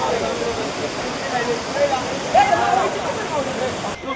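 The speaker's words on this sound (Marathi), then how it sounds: "हा काल मांडवी धबधबा आहे मस्त पैकी मेन वॉटरफॉल तिकडे" Kalmandvi Waterfalls near Jawhar roar as a constant, loud wall of rushing water, with faint voices briefly audible beneath it.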